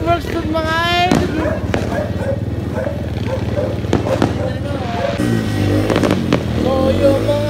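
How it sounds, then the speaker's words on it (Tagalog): Fireworks pop and crack in the distance in scattered bursts, mixed with passing motorcycle engine noise and someone talking over it. "may fireworks dun mga idol."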